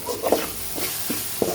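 Kothu parotta and beaten eggs stirred on a hot pan, a steady sizzle with four or five distinct scraping strokes of a spatula, close and clear.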